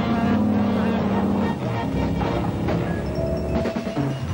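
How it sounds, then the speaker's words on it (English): A 1971 Dodge Charger SE 440 makes a hard 50 mph stop that scrapes rubber for a long distance, heard as a loud, close engine and tyre roar that drops away over a few seconds. "This 50-mile-an-hour stop scraped rubber for 105 feet."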